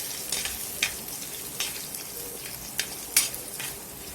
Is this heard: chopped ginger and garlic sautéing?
yes